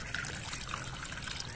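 Water trickles and splashes as it is poured into a rabbits' drinking container, a steady close dribble running for the whole moment without talk.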